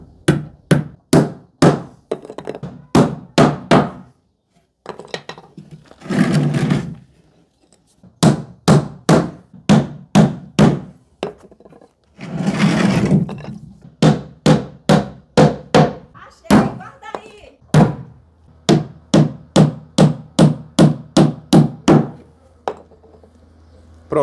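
Hammer strikes nails into wooden formwork for a concrete pillar set against a wall, a loud close series of sharp knocks in quick bursts with short pauses, plus a couple of scraping or sawing noises between them.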